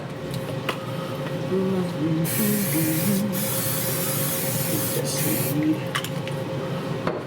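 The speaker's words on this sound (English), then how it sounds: "I should probably spray this a little bit." Short bursts of cooking oil spray hissing close by, a few in succession, over a steady background hum with faint tonal beeps.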